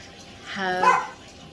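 A single dog bark or yelp rings out, close and fairly loud, lasting under a second against a quiet background.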